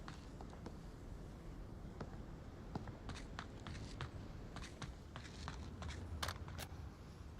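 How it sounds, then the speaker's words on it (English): Footsteps in a VR shooter video game match, a series of faint, irregular light steps and ticks over a steady low background hiss, with no talking. "Reaper pushing in, hearing those footsteps by Big Red"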